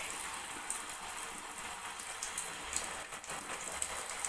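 Water spraying from a shower during a pet cockatiel's bath, a steady hissing, pattering rush of droplets with a few faint splashy bumps, no talking.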